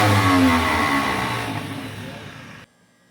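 A 1953 Buick Special engine, revived after 30 years in storage, runs loud and close with a revving roar that gradually fades before cutting off abruptly near the end.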